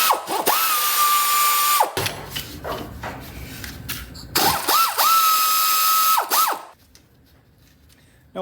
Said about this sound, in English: 14 millimeter. We're gonna go ahead and pull this caliper off.